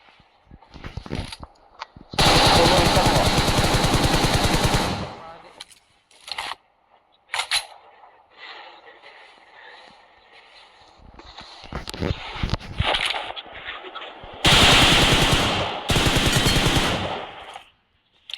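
Video game gunfire comes in long, loud bursts of rapid shots, with scattered single cracks between them, while players talk over the game.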